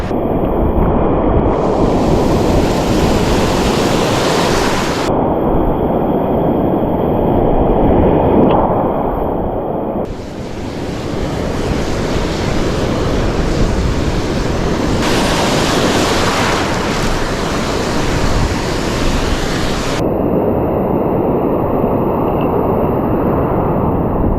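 Loud, continuous roar of sea waves crashing and washing ashore during a storm in La Union, with heavy wind buffeting the microphone throughout.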